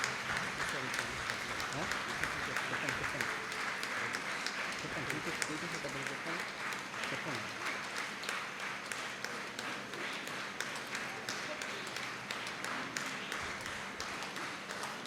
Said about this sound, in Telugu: చప్పట్లు కొడుతూ మన కృతజ్ఞతను తండ్రి గారికి తెలియజేస్తాం